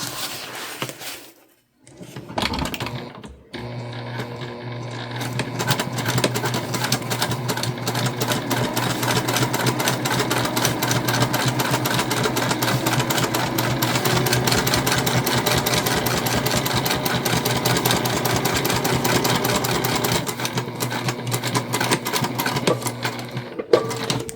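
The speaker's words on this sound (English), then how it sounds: "And you can see we're sort of top stitching the seam." A Juki TL2 sewing machine top-stitches a seam on a drawstring backpack, running steadily and loudly for about twenty seconds after a brief start and pause, with a dense rapid needle rhythm throughout.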